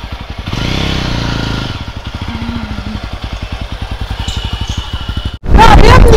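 A motorcycle rides along at a steady pace on a short trip, its engine putting out a loud, close, rhythmic thrum, before a sharp cut to a brief louder burst of other sound at the end.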